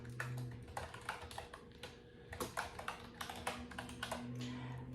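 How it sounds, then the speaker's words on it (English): Clicky keystrokes on a colorful wireless mechanical keyboard, a quick irregular run of sharp taps with brief pauses, close and fairly quiet over a faint steady hum, no talking. "So I can type right here"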